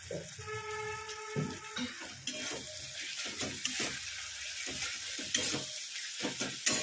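Ghee with garam masala and chili powder sizzles in a pan for Bengali muri ghonto, a steady frying hiss broken by repeated stirring scrapes, with a faint tonal hum early on.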